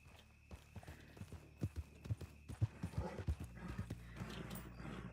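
Horse hooves clip-clopping at a fast gallop in Red Dead Redemption 2 (RedM), a quick run of sharp, close thuds with a brief whinny, during foal training.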